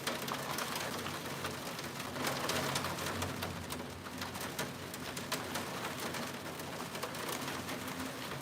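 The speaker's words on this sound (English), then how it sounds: "Y'all hear that rain?" Steady rain falling outdoors, heard from indoors as a constant broadband hiss throughout, with birds cooing and calling faintly in the background.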